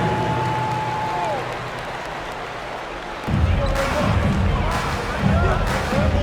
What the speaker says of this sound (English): Let's give them a big round of applause. Your Liquor Girls dance team.